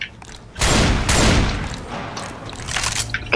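Rapid automatic gunfire in the video game Left 4 Dead 2, loud dense bursts that continue in a sustained fusillade before trailing into quieter scattered shots.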